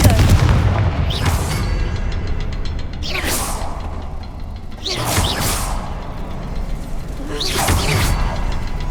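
In the Hogwarts Legacy video game, a Confringo fire spell sets off loud whooshing bursts. Four fiery blasts roar up in turn over a dense rumbling game soundscape.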